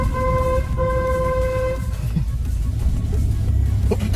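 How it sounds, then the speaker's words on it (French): A car horn sounding in a street, two steady honks in quick succession near the start over idling engine and road noise, followed by traffic rumble. "Mais regarde, klaxon, regarde, klaxon."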